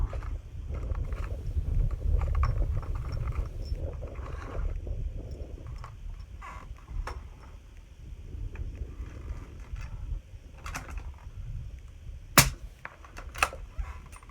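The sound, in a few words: suppressed 300 Blackout gunshot, Silencer Co ammo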